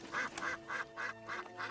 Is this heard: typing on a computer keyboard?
no